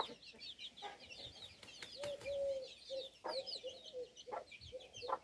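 Chickens cluck and chatter continuously nearby in a rural yard in Niğde, Turkey, with soft rustling and a few thumps in the background.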